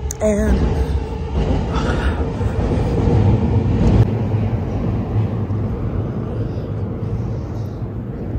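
A dense, steady rumble of a passing train in Tokyo, heard from a hostel, fills the whole clip, with rattling and roaring noise and a brief voice at the start.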